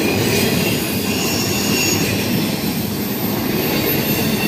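A CSX freight train pulled by SD40-3 locomotives rolls past close by, a loud, steady roar of wheels on rail with high squealing throughout.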